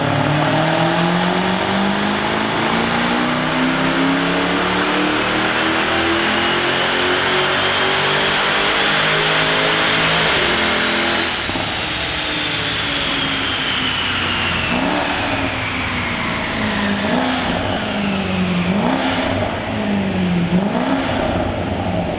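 A Jaguar XF engine revs up on a dyno in long sustained pulls, rising and falling in pitch, loud and close with a whining supercharger tone.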